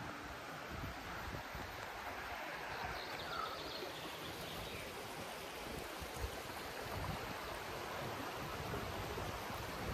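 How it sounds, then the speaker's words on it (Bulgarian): A river flows near the village of Ognyanovo, a steady, even rush of water heard at a moderate distance without pauses or voices. "И тук има река."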